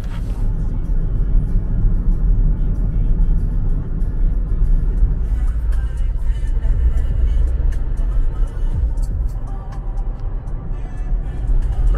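Car driving home on a Swedish road, a steady loud low rumble of engine and tyres inside the cabin, with speech mixed in at times.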